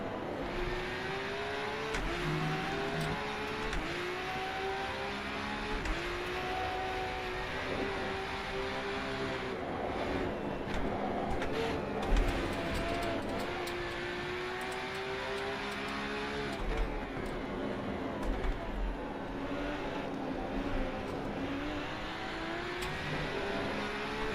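Race car engine in the Rennsport racing game, revving up and down steadily through repeated gear shifts, with the pitch climbing and dropping as the car accelerates, loud and continuous with no talk.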